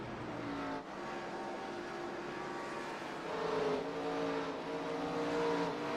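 A race car engine hums steadily at moderate distance as the car enters pit road during an iRacing online race at Rockingham, a smooth sustained drone that swells slightly toward the end.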